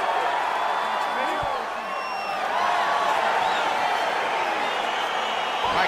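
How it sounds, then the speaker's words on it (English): Arena crowd in the EA Sports UFC 4 video game gives off a steady, dense roar of excited voices and murmuring, holding level throughout with no lull. "crowd getting excited as this fight gets underway"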